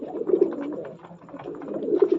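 Caged fancy pigeons kept for sale, including Kaldum and Capuchin birds, coo softly in repeated throaty bursts near and clear, with a short lull between calls.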